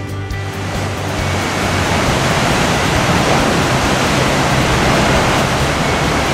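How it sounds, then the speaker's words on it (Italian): Powerful ocean waves surge beneath a natural rock arch at Pancake Rocks, Punakaiki, building into a loud, continuous roaring wash of surf that swells and holds steady with no voices. "Volevo riprendere la potenza delle onde che passano sotto questo arco naturale."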